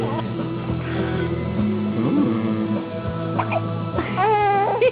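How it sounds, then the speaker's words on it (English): A baby girl hiccups several times in short, uneven bursts mixed with babbling and soft whimpers, close and fairly loud, with an adult voice nearby. "Darn these hiccups."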